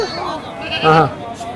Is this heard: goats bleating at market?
yes